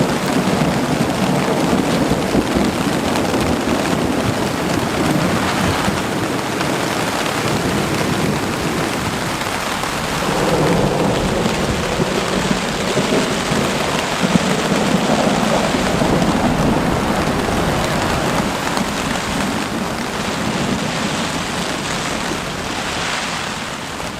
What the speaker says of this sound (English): There's been some really good thunder.